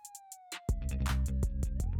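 Ambulance siren effect in an audiobook drama, a few faint blips, then a loud, close two-tone wail swelling and cycling steadily without speech.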